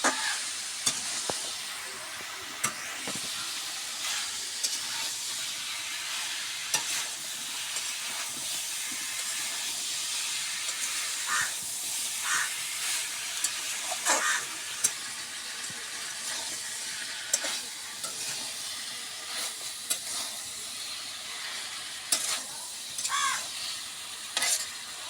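Green banana and pointed gourd sautéing in a pan, a steady close sizzle broken by repeated scraping stirs of a spatula throughout, with no talking.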